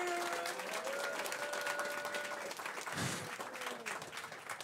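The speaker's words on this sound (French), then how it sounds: "On peut les applaudir, bravo." An audience claps steadily and fairly loudly at an FNAC gaming tour event, with a few musical tones sounding over the applause.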